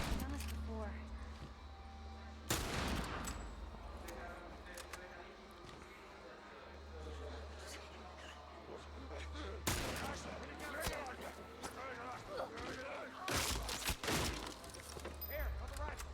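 Gunfire in the video game The Last of Us: a few sharp, loud shot bursts, separated by several seconds, over a steady low game background.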